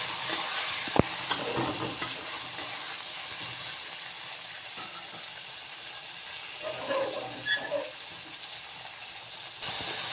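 Onions, tomato and chillies sizzle in a pan with a soft continuous hiss, broken by a sharp clink near the start and a few stirring scrapes later on.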